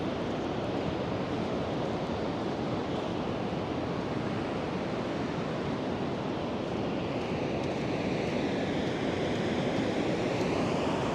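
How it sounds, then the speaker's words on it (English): Pacific Ocean surf on a foggy morning, a continuous loud wash of breaking waves with a wind-like hiss that swells slightly toward the end, with no voices. "I'll leave you with a view of this Pacific Ocean on this foggy morning"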